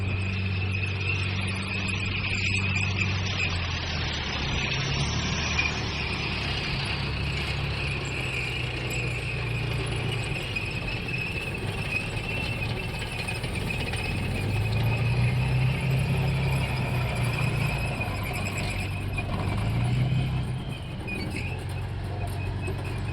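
Running armoured tanks drive around a museum arena display on Tiger Day, making a continuous loud, heavy engine rumble with steady clanking and squealing tracks that swells as they pass.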